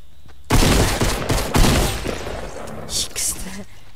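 Rapid gunfire in the video game Fortnite, a dense burst of loud cracking shots followed by scattered further shots and impacts that fade out over a few seconds.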